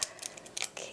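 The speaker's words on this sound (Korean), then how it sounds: "달걀은 다른 접시에 톡 해서" Several quick, sharp taps of an egg shell against a plate while making mushroom and egg soup, close and fairly quiet, with brief pauses between the clicks.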